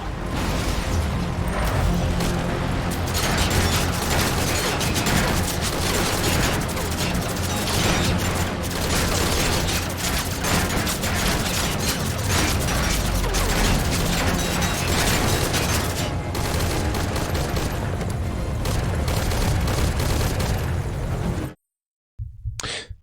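An anti-air emplacement in Metal Gear Solid V: Ground Zeroes comes under attack, with loud, continuous gunfire, explosions and mechanical clatter for most of the clip before it cuts out abruptly near the end.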